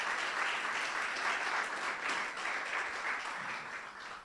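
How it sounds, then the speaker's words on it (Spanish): A church congregation breaks into sustained applause during a worship service, a steady dense patter of many hands at moderate distance, holding evenly and easing off slightly near the end with no talking over it. "Un fuerte aplauso si le quiere dar al Señor también."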